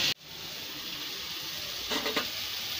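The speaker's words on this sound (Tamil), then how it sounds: "கொஞ்சம் வதங்கட்டும், தக்காளி பழம் வெங்காயம் எதுவுமே இன்னும் நிறம் மாறலை." Tomatoes and onions sauté in a hot pan with a steady close sizzling hiss, with a few brief stirring scrapes near the end.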